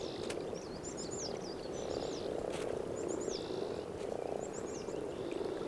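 A chorus of common frogs croaking steadily, many overlapping calls forming a dense, continuous purr with some higher chirps above it.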